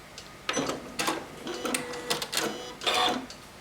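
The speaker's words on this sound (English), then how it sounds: "And it just sews this leathery stuff so easily." A sewing machine fitted with an HD roller foot stitches leather in quick mechanical bursts, rattling runs separated by short pauses, close and clear with no voices.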